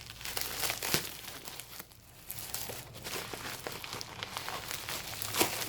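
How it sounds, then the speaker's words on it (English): Thin plastic packaging being crinkled and torn open, close and fairly quiet, irregular rustling bursts throughout with a brief lull near the middle. "Yeah, crinkling, sorry."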